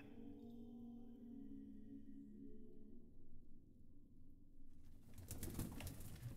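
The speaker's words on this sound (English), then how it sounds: "Oh, it's a bird." A bird coos softly in a video game set in medieval England, a gentle pigeon-like call over quiet ambient tones, followed by a sudden brighter burst of sound near the end.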